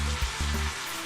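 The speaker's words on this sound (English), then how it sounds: "Hear that little sizzle? That's exactly what you want." Steady sizzling and crackling of chicken frying in a cast iron Dutch oven, close and continuous, with a few soft low bumps.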